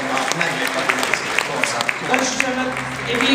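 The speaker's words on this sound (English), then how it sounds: "give him a nice round of applause" Audience applause for a singer at a Christmas 2010 performance, a spread of claps running beneath a voice talking over it and swelling slightly toward the end.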